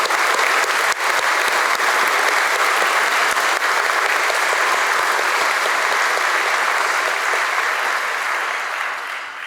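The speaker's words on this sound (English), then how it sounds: "One more big round of applause for all the parents" Sustained applause from a large crowd at a military commissioning ceremony, steady dense clapping throughout that tapers slightly at the end.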